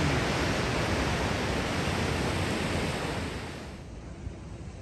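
Ocean surf at Manly beach in Sydney, a steady broad wash of breaking waves with some wind rush, loud at first and easing slightly toward the end.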